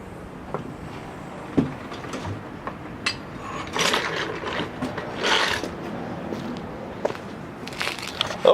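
A Nissan 240SX on HSD coilovers is lowered on a jack, with clicking ratchet-like mechanical sounds, clunks and creaks in an irregular sequence, close by.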